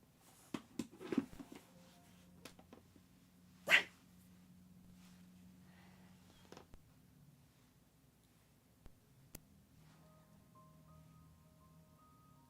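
A dog gives a single sharp bark in an otherwise quiet room. Soft scattered thumps, faint breathing-like sounds and a low steady hum fill the rest.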